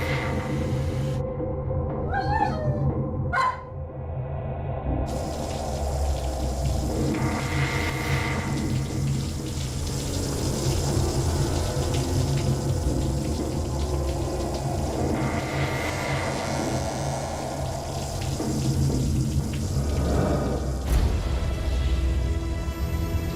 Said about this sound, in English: I was gonna go take a shower.